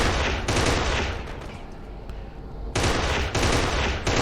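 Bursts of heavy automatic gunfire from the Xbox shooter Kane and Lynch 2: Dog Days, loud and close, break off into a quieter lull before a second sustained volley, with no voice.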